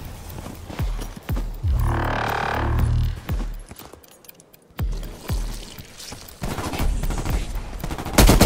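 Rapid gunfire in Call of Duty Cold War Zombies, dense bursts of shots with impacts and game effects, loud and close, broken by a brief quieter gap.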